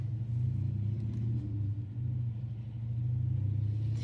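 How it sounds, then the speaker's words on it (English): Cars driving past outside produce a steady low rumble with swelling and fading engine and tire noise, moderately distant, and no voices over it. "We didn't hear none of these cars until I started filming."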